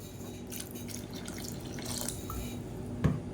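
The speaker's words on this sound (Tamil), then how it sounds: "இப்போ மிக்சியை அலசிட்டு அதை தண்ணி கொஞ்சமாக சேர்த்துக்கலாம்" Water is added to a rinsed mixer jar while making a kuzhambu curry, giving light splashing and dripping sounds over faint tap noise, ending in one sharper knock.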